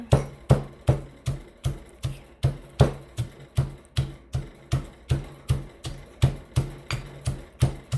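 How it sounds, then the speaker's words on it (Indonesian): Peanuts are pounded coarsely with a pestle in a mortar, a close series of sharp, evenly spaced thuds at roughly two to three strikes per second, loud and alone without talk. "Ini sekarang saya mau numbuk kacangnya ditumbuknya kasar aja"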